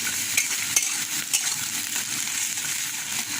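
A mashed dried-fish mixture fries in a pan over a high flame, giving a bright, continuous sizzle with occasional sharp scrape and tap sounds from stirring.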